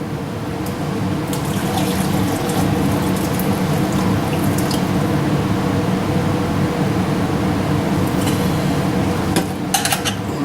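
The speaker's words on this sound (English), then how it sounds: "I'm pouring a measuring cup over here." Cooking juice from a bratwurst pan pours steadily into a measuring cup, a continuous liquid trickle with occasional light clinks of cookware, with no voices.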